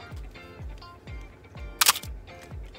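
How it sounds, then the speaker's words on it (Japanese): A Canon AE-1 35mm film SLR with a horizontal-travel cloth focal-plane shutter fires once in a loud, sharp, close burst, surrounded by softer repeated low thumps of handling and mechanism movement. "まあ、布膜のね、横走り、 フォーカルプレーンシャッターの様子ね。"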